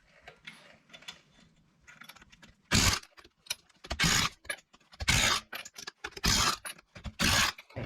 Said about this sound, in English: now we just got to take off the lug nuts and put the tire back on. All right, now we just need to tighten these up.